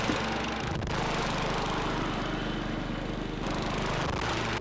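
A lawn mower engine runs steadily and loud and close, a continuous droning hum with a low harmonic buzz that holds for several seconds, with a brief dip near the start and another near the end.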